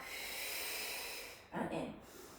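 One sharp, breathy exhale during a monkey squat and heel lift exercise, a short close hiss of air that follows steady room hush.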